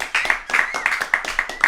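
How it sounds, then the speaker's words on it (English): A small online open mic audience claps and cheers in short, uneven bursts, with whoops and voices mixed among the claps. "we're gonna give you a count in and some applause"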